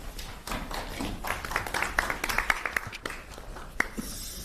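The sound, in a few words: audience applause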